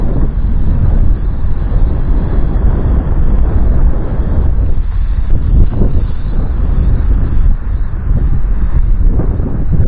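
Wind buffets the microphone in a constant, loud low roar outdoors while a TYH TY-16 Phantasm toy drone flies, with no clear motor whine showing through.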